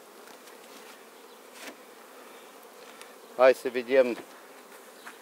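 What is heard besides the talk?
honeybees buzzing at an opened beehive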